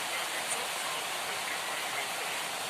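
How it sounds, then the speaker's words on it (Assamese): Heavy rain that has kept falling since the night before makes a steady, moderately quiet wash of broadband hiss, even and unbroken with no voices over it. "ইমান বৰষুণ দি আছে, কালি ৰাতিৰ পৰা বৰষুণে দি আছে"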